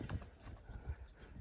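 Horse hooves clip-clop at a slow walk while the animal is held back on the reins, a few distinct close thuds in uneven rhythm with light background noise.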